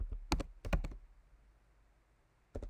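Typing on a computer keyboard to enter an equation in Qucs circuit simulation software: two quick bursts of clacking keystrokes, a quiet pause, then another short burst, close and crisp, with no talking.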